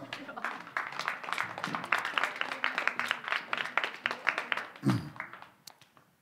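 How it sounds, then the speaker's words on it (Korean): Audience clapping at a church gathering, a patchy run of individual claps for about five seconds that thins out at the end, with a short vocal sound near the close. "네, 박수 한번 하세요."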